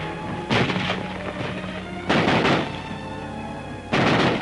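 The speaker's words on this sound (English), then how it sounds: "German tanks roamed the streets, shooting up the town." Gunfire and tank fire during 1944 street fighting in Paris, three heavy booming blasts at spaced intervals, each a loud sharp report with a rumbling tail over a constant background roar.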